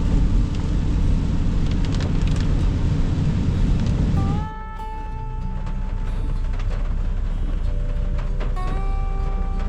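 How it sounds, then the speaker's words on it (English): Heavy rain drums loudly over a 1990s Toyota RAV4 on the road. A dense, steady roar suddenly drops about halfway through to a quieter wash with faint tonal hums. "We haven't got rain like this in a while,"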